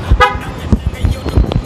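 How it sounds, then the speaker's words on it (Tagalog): Short loud honks from the horn of a black 71cc stand-up scooter, several quick toots close by, mixed with talking. "Baka lakas ng busina yan guys, lakas ng busina."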